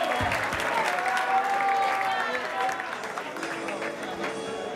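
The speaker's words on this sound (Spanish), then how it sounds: "Aplauso para todos, mucho respeto" Crowd applause and cheering at a 2 vs 2 freestyle rap battle event in Buenos Aires, a loud burst of clapping mixed with shouting voices and a whistle that thins out as it goes on.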